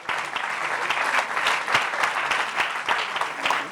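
An audience claps for SNCF president Guillaume Pepy arriving for an interview on digital transformation, a dense, even wash of many hands with a few louder individual claps punctuating it, sustained and fairly close.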